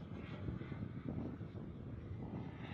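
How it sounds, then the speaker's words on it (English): Boomerang Ranger V2 model airplane landing with full flaps, its engine a steady, moderately distant drone with no talk over it. "Coming in full flaps. Landing."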